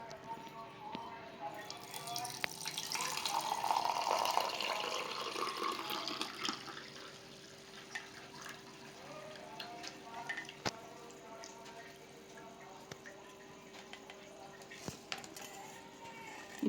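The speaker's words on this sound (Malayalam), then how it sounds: "നമ്മൾ അളന്ന വെള്ളം എടുത്തില്ലേ, ആ ഗ്ലാസ്സിലേക്ക് തന്നെ ഊറ്റി ഒഴിക്കുക" Boiled liquid is strained and poured into a glass, a faint, gentle trickle and splash that swells for a few seconds and then tapers off into quiet kitchen background with a few light knocks.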